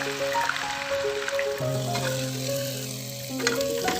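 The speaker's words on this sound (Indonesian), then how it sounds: "Goreng tahu hingga matang dan kecoklatan." Tofu pieces sizzle and crackle steadily in hot cooking oil, a close, moderately quiet frying hiss with faint utensil clinks.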